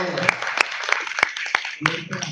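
Scattered, spaced-out claps from a small group, roughly one sharp clap every third of a second, fairly close.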